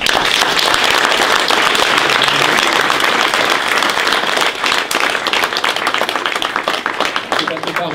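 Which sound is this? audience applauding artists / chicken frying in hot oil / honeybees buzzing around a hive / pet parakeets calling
audience applauding artists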